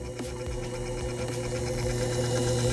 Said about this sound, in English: I'm going to increase my spindle speed.